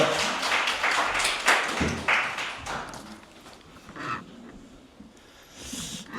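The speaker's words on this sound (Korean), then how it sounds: "뜨거운 박수로 부탁드립니다" Audience applause at a Korean peace symposium greeting a keynote speaker: dense, steady clapping from a room of listeners that swells near the start, then thins and fades toward the end.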